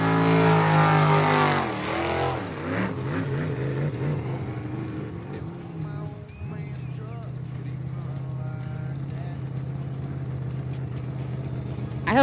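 A racing boat's engine drones steadily on a course at Yakima, Washington, a sustained mid-distance roar that shifts in pitch as it passes, with a voice talking over it.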